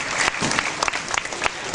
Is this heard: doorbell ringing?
no